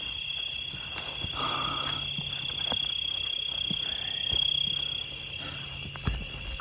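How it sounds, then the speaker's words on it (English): Crickets chirp steadily outdoors at night in Gettysburg, a high continuous trill held throughout at moderate distance, with scattered faint clicks and a soft bump near the end. "Crickets are much louder."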